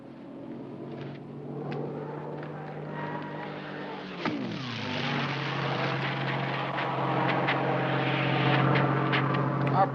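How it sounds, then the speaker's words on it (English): Propeller airplanes drone overhead, a steady mid-distance engine hum that swells and shifts pitch as one passes, with faint voices in the background. "That's just some more planes."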